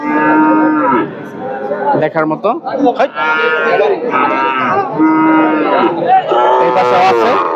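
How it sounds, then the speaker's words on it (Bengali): A Friesian cow moos loudly and repeatedly at a busy cattle market in Gazipur, its long, drawn-out calls rising over the crowd, with people talking close by. "ফিজিয়াম জাতের চমৎকার একটা গরু"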